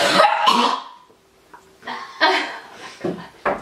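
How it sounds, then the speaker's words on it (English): Several dry coughs in short bursts, close and fairly loud, with brief pauses between them. "It's just straight dry coughing."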